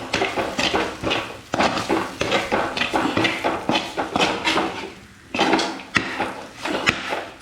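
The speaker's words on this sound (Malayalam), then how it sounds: "ഇനി ഒന്ന് ഇളക്കി" Fish curry with ground coriander is stirred in a pot, a busy run of repeated scraping, clinking spoon-on-pot strokes in a steady rhythm, close and fairly loud, with a short pause near the end.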